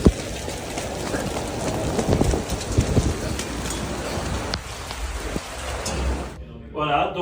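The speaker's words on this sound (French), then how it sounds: "on commente avec, avec un parapluie parce qu'il pleut dans la cabine" Heavy rain falls during first practice at the 2024 Formula 1 Canadian Grand Prix. It makes a dense, steady hiss with scattered drops, and the sound thins out near the end where a voice comes in.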